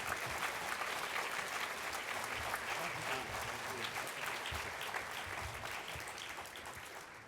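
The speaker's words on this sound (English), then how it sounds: "Please give them a round of applause for being the diamond level sponsors of the NIIC." Audience applause for the diamond level sponsors at the NIIC welcome, a steady dense clapping from a large crowd that holds throughout and tapers slightly at the end.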